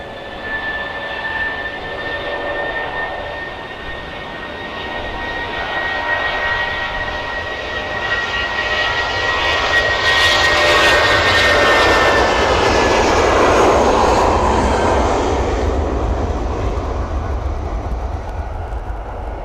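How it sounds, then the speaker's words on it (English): Jet airliners from TUI and Ryanair descending to land at Manchester Airport on a windy afternoon, a loud sustained engine roar with whining tones that swells toward the middle and stays strong, with no talk. "TUI and Ryanair on their way down"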